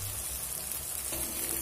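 Spice paste for a jackfruit (echor) chop frying in oil in a pan, giving a close, steady sizzling hiss with no pauses over a brief moment, no voices present.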